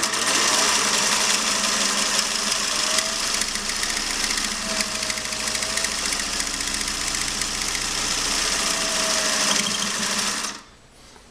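A late-1950s Singer 401a sewing machine runs steadily, stitching a zigzag satin stitch with an even, rapid mechanical whir that cuts off abruptly at the end.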